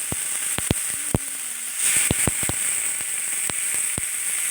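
Chicken kebabs cook in a dry pan with no oil, giving a soft steady sizzle broken by scattered sharp pops and crackles, heard close and alone with no voices.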